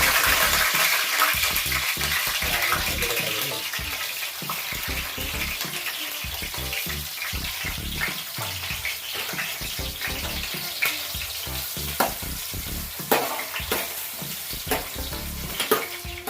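Continuous crackling sizzle of green chillies frying in hot oil, with occasional stirring clatter, loud and close.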